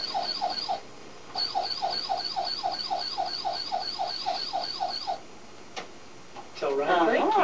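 A small electronic toy ambulance siren wails in a rapid repeating warble, stops briefly, resumes for several seconds, then cuts off as people begin talking nearby.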